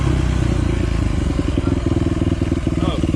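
A motorcycle rides on private property during a trespassing stop, its engine a steady, loud, close mid-pitched drone with rhythmic pulsing and some clatter throughout.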